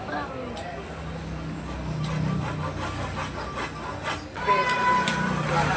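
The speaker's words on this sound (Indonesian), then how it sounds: "Oke, kita gergaji dulu." A hand saw rasps back and forth through wood in repeated strokes, fairly close, with some voice and background noise underneath.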